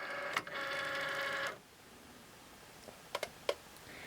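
A Cricut cutting machine loads its cutting mat with a steady mechanical whir for about a second, then goes quiet apart from a few sharp clicks near the end.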